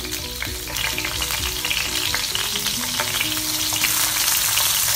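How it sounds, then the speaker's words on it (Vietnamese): Dried croaker fish sizzles and spatters in hot oil in a pan, a loud, steady crackling fry with occasional stirring clinks and no talk. "Khô nãy mình để ráo rồi, mình rửa để ráo rồi, giờ mình bỏ vô mình chiên ha."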